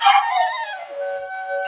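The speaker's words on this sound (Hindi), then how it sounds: "इधर से बगल से यहाँ के आसपास के जो लोकल कुत्ते हैं वो भी वो इनको परेशान करते हैं।" A local stray dog howls in a long, wavering, mournful tone, close and loud at first then settling into a sustained lower howl, heard alone without speech.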